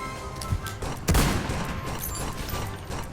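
Rapid bursts of gunfire in the Roblox video game, a fighting map, rattle at moderate level with one heavier boom partway through, and faint talk sits underneath.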